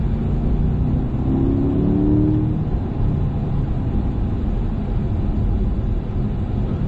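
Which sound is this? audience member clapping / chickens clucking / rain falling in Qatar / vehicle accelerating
vehicle accelerating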